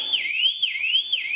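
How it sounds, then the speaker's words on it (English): A Vauxhall Astra H car alarm sounds with a continuous rising and falling electronic wail that repeats in an even cycle, loud and alone. "the ignition's full turned, alarm's going off"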